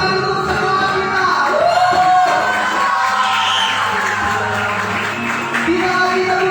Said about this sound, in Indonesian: Kita kasih tepuk tangan untuk sekolah kita.